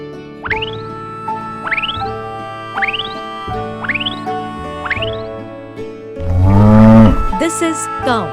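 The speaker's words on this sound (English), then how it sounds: "This is cow." A cow gives a single low, drawn-out moo near the end, swelling loud over a looping children's toy-train tune with rising chirp sounds.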